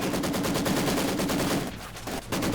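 Maxim machine gun fire in the Company of Heroes 2 strategy game: a steady, loud, rapid stream of shots that briefly thins near the end before resuming, with no voices.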